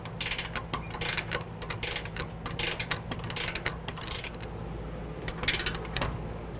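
Ratcheting clicks from a torque wrench tightening trailer hitch bolts on a 2010 Dodge Ram 1500, a run of close, quick mechanical ticks in irregular bursts over a low steady hum.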